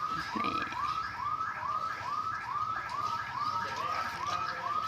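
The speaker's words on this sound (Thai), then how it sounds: "เสียงหวอดังนะคะ แบบรถใครไม่รู้ดังนานแล้ว" A car alarm siren wails on and on in a housing estate, its rising sweeps repeating steadily at a moderate distance with no talk over it.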